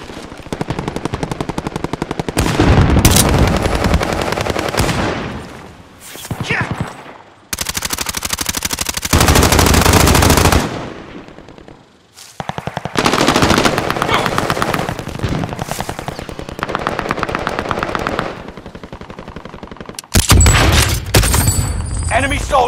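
Gunfire in a military shooter video game comes as loud, sustained automatic bursts separated by short gaps, with heavy impacts, a few distant thuds and occasional game voice callouts mixed in.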